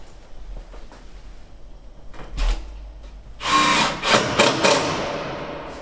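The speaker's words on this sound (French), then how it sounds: "je vais mettre des vis pour pouvoir démonter mon plancher plus facilement" Screws go into a wooden chalet floor with a power screwdriver, giving a couple of short, close bursts of whirring and grinding into the wood, the longest burst coming near the end.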